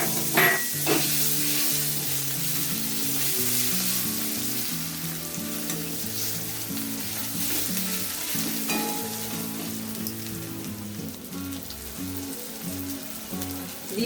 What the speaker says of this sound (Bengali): পেঁয়াজ রসুন ভাজা হয়ে গেছে, আমি এবার এতে টমেটো কুচিটা দিয়ে দিচ্ছি